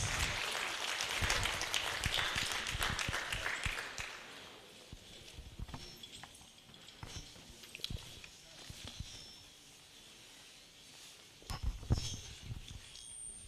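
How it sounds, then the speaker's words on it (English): An audience at a book launch applauds as a speaker walks up to the lectern, a dense, steady clapping for about four seconds that then thins into scattered claps and footsteps, with a few late claps near the end. "A round of applause for him as he approaches the lectern"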